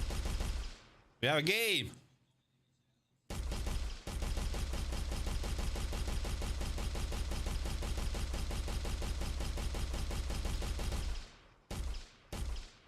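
Semi-automatic gunfire from a game built in Unreal Engine: a short burst, a pause, then a long run of rapid, evenly spaced loud shots, with a few final bursts. A voice speaks briefly over it.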